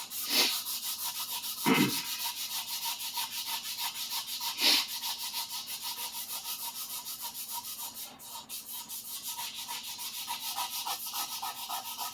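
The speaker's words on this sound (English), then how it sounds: "I think it will after I sand on it a little bit" Wooden handle of a Minamoto sujihiki knife being sanded by hand, a continuous close rasping rub in a steady back-and-forth rhythm, punctuated by a few sharper scraping strokes.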